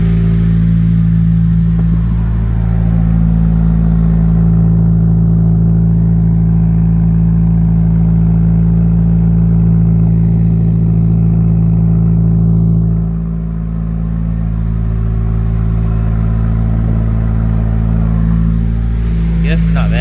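A Subaru WRX engine runs with problems, a loud steady idle hum that dips and recovers in tone partway through, with no clear misfire stumbles.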